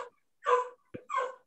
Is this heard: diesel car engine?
no